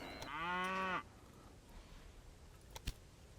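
A single drawn-out cow moo from the Railway Empire video game, loud and close for about a second, then quiet background with a faint click.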